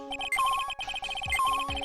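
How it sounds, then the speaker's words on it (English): Electronic beeping from the metal detector in the Phoenix Wright: Trials and Tribulations video game, a quick chiming pattern of tones repeating in a steady rhythm with a held higher note twice, clear and alone. "That's the sound of the metal detector's signal bouncing off of something metallic."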